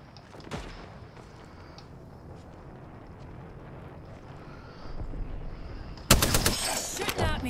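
Gunfire in Apex Legends crackles as scattered distant shots over a low ambient bed, then a loud close burst of rapid fire breaks out toward the end.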